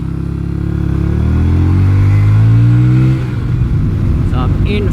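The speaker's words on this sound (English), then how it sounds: "So I'm in fifth, having accelerated uphill to 100." A bobber motorcycle in fifth gear accelerates uphill on a highway, its engine droning loudly with a rising pitch before easing off, mixed with steady wind rush close to the rider.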